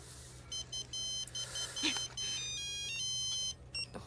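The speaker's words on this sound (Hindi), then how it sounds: "तुम्हारी माँ का फोन है।" A phone plays an electronic ringtone melody in repeating bursts of beeping tones over a low hum, fairly close and steady.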